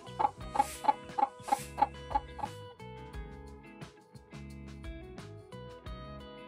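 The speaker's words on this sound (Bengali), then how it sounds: "এটা হচ্ছে আমার মুরগি, আর মুরগি দেখলাম হচ্ছে বাচ্চা ফুটাইছে।" A hen clucking among newly hatched chicks in a village, a run of about eight sharp rhythmic clucks up close, then quieter calls and high peeps over a steady tonal background.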